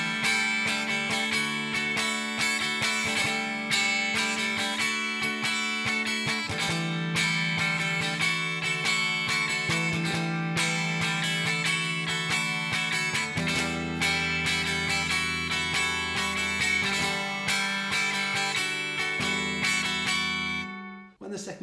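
Full guitar part of a song, played alone and steadily for about twenty seconds, layered strummed chords and ringing notes shifting through changes before stopping abruptly.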